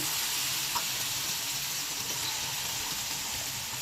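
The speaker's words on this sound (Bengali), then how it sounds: "এখন আমরা আমাদের মাছগুলোকে ফ্রাই প্যানের উপরে দিয়ে দেব।" Fish pieces frying in oil in a frying pan; a steady, close, even sizzle and hiss with little variation, uninterrupted by voices.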